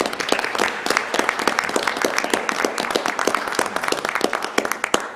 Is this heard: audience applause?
yes